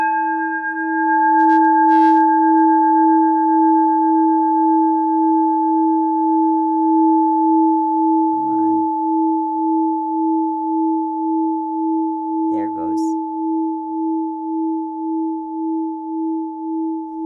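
A steady sound-therapy tone holds a loud, pure hum with faint overtones throughout, swelling slightly in a slow pulse near the end, with a few brief soft rustles over it.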